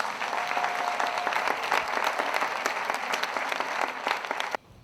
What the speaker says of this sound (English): Ladies and gentlemen, let's give our top performers a big round of applause